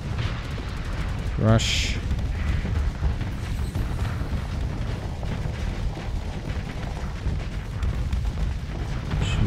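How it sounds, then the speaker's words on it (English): A giant missile swarm explodes in the space combat game Starsector, producing deep rumbling booms and a sharp whooshing streak, all under excited talk. "Giant missile swarm."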